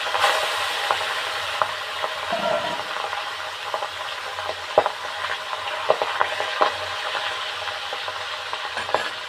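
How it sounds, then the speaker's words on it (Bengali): Pangas fish pieces frying in hot oil, giving a steady loud sizzling hiss with scattered crackles and pops, close up and without talk. "মাছগুলো ততক্ষণ ভাজা হতে লাগবো"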